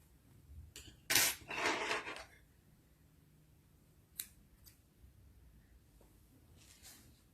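Scissors cut crochet yarn in one close, crisp snip-and-slide burst, followed by faint rustles and a few small clicks of handling in a quiet room.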